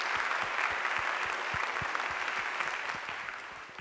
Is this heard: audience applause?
yes